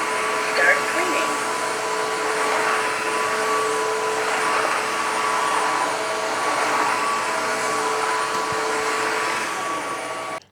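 A UWANT U100 wet-dry vacuum cleaner runs in smart mode with a steady, loud motor whine and suction roar, holding nearly constant for about ten seconds before cutting off abruptly at the end.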